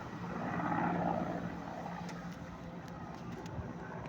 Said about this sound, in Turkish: Helikopterler geliyor ama